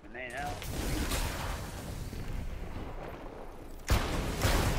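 A grenade explodes in a video game, a broad blast that swells and sustains, with a second sharp burst near the end, loud over game noise.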